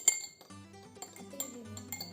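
A spoon stirring cabbage juice indicator in a glass gives quick, light clinks and taps against the glass, irregular and close, with no talking.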